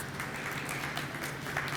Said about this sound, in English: We have a round of applause.